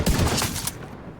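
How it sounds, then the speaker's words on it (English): A short, loud burst of rifle gunshots in The Division 2, rapid and close, fading within about a second. "let's use my rifle"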